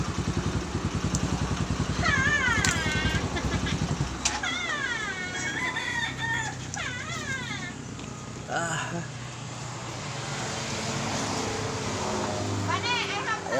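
A cat meows several times in rising, sliding cries, first over a loud, rhythmic engine rumble and then against quieter background noise, with voices talking nearby.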